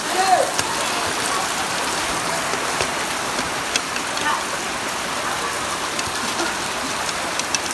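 Heavy, steady wash of flood water rushing and spattering during a rainy flood in the Philippines, a dense hiss that holds for the whole stretch, with faint voices in the background.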